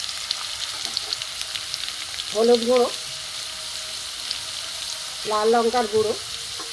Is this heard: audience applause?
no